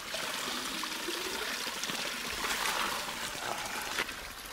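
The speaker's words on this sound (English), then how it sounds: "That's the Upson Lake Road artesian well" Water from the Upson Lake Road artesian well pours and trickles steadily, a close, continuous splashing stream with no talk.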